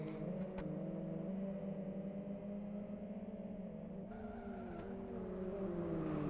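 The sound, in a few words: Formula 1 race car driving in Live for Speed video game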